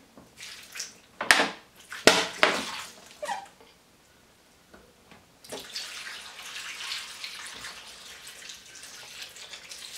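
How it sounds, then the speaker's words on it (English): Spring water splashes and trickles into a bowl of tamarind in short bursts, then a steady pouring stream runs for several seconds, close and moderately loud. "we're gonna submerge the tamarind with some spring water"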